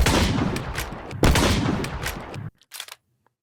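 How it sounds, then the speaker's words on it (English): A video-game shotgun firing shells: two heavy, booming blasts about a second apart, each with a long rumbling tail that cuts off abruptly, followed by faint clicking of a single shell being loaded. "And this thing is a shotgun using traditional shells here"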